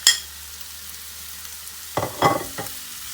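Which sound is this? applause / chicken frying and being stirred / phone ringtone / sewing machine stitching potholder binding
chicken frying and being stirred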